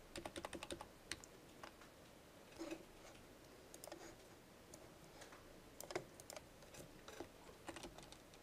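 Someone types on a computer keyboard, with quick irregular bursts of light clacking keystrokes and short pauses between them, close and fairly quiet in an otherwise still room.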